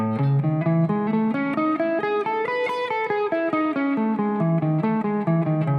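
A guitar picks a steady alternating two-note pattern across two notes per string, downstroke first, each note ringing clearly in an even rhythm, close and moderately loud, no talking.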